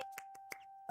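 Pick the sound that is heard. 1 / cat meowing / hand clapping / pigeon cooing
hand clapping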